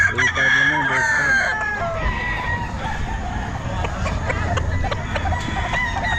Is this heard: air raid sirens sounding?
no